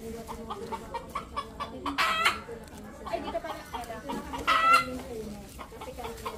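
Chickens clucking and a rooster-like fowl calling in a garden among mulberry and chili plants, intermittent bursts near the microphone with people talking throughout.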